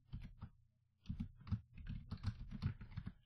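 Computer keyboard typed on in short bursts of quick, crisp key clicks, close and quiet, with a brief pause before a faster run of keystrokes.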